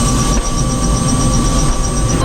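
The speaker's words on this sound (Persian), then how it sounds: "همین حالا هلیکوپتر اومد ما رو برداره ببره" Helicopter arriving for a pickup in the Arctic, its loud, close rotor thrum and turbine whine pulsing steadily and continuously with no voices over it.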